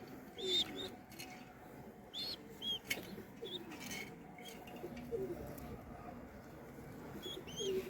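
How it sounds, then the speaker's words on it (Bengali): Crossbred domestic pigeons coo in a loft, soft throaty calls repeating irregularly at close range alongside occasional higher chirps and faint rustling, with no speech. "এগুলো অরিজিনাল গুলো না, ক্রস কবুতর আর কি"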